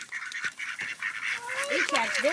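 Several ducks honk and quack nearby in quick, overlapping calls, rising in pitch, while a person talks faintly in the background.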